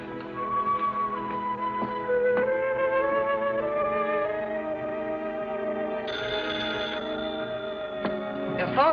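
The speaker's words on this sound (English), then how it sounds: "Your phone's ringing." A telephone rings in a late-1940s film noir scene, its bell trilling in short bursts over a sustained orchestral score, with no talk.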